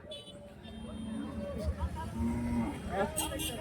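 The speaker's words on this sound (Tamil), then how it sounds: "இங்கே வந்து பாத்தீங்களா ஒரு ஜோடி மாடு வந்து இருக்கு" Cattle at a weekly livestock market, with a few low moos close by under lively talk and crowd babble.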